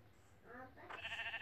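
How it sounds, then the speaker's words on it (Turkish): Sheep in the Minecraft video game give two short bleats, the second louder and brighter, close and clear over faint background noise. "Bunlar da gel öldürelim şu koyunları."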